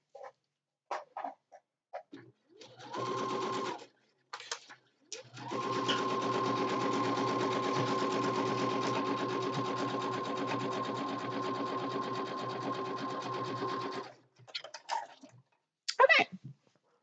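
A sewing machine stitches fabric in a long steady whirring run of about nine seconds, with short start-stop bursts and handling sounds before and after.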